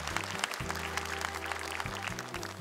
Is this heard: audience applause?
yes